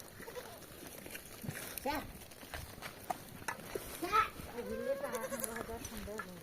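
Goats in an Indian village yard bleat several times at close range, the calls coming in short wavering bursts, mixed with quiet talk and faint hoof shuffling.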